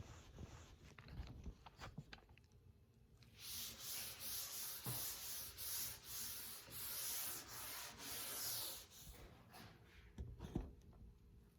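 Hand-burnishing Rubio Monocoat oil finish into a live edge wood bar top, a steady rhythmic rubbing swish repeating close up for several seconds, with quieter scuffs before and after.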